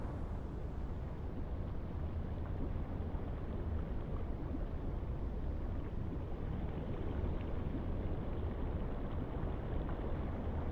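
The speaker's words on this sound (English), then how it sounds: "See the engines now spinning up." U-boat engines spin up in a submarine video game, a low, steady rumbling drone with a dull churning texture, fairly faint and without talk.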